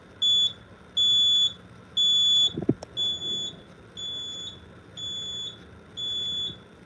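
Simplex 4005 fire alarm panel sounding during a manual evacuation, emitting a steady train of loud, high-pitched electronic beeps in even pulses with brief handling clicks in between and no talking.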